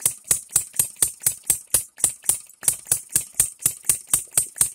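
A small DIY three-stroke model gas engine runs at a fast, even beat, each sharp firing pulse ringing with a bright metallic rattle, loud and close with no voices.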